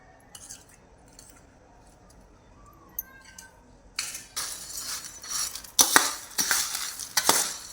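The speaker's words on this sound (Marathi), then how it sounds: "तिखट मीठ साखर हे सगळ्याला एकत्र झालं पाहिजे म्हणून चांगलं हलवून घ्यायचं" Fasting chivda tossed with green chilies, red chili powder, salt and powdered sugar, heard as quiet scattered clinks at first, then louder dry scraping and rustling of the stirred mix in bursts, close up and without voices.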